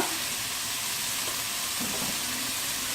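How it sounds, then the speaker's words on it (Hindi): Finely chopped onion and vegetables sizzle steadily in a hot pan while being stirred during preparation of a stuffed semolina lifafa snack, a constant close frying hiss with faint scraping and no voices. "और ये बारीक कटी हुई प्याज ऐड कर देंगे, और इसको हम चलाएंगे।"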